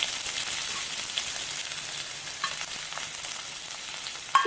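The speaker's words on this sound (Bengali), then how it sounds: "পেঁয়াজটা একটু ভাজা হোক," Chopped small onion frying with cumin seeds in a pan gives a soft, steady sizzle with faint stirring scrapes, close and continuous, with a small clatter at the end.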